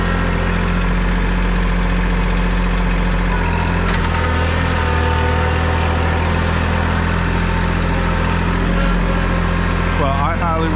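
A tractor engine idles loudly and close with a steady, unbroken low rumble for about ten seconds, with a brief extra rattle near the end.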